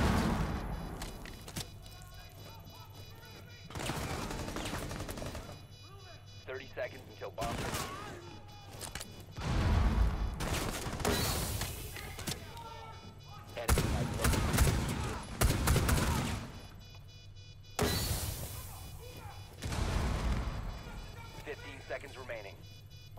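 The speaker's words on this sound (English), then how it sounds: "Yeah, they're still shooting at me." Rapid bursts of gunfire from the shooter game Rainbow Six Siege crackle in loud, repeated clusters between quieter stretches, with a player talking over the action.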